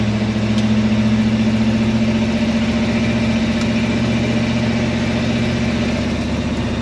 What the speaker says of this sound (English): That custom X-Pipe exhaust sounds amazing.